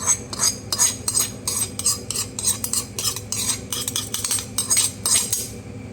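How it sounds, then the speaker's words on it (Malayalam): A ladle stirs unniyappam batter with coconut and ghee-roasted sesame in a metal vessel, giving steady, rhythmic scraping and clinking strokes, close and fairly loud, with no talking. "എല്ലാം കഴിഞ്ഞിട്ട് നമുക്ക് നന്നായിട്ടൊന്ന് തവി വെച്ച് മിക്സ് ചെയ്ത് കൊടുക്കാം"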